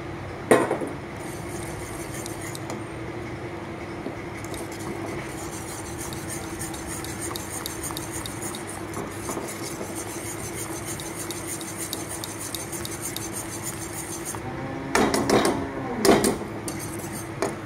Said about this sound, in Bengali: অল্প অল্প কর্নফ্লাওয়ার দিতে হবে আর নাড়াচাড়া করে নিতে হবে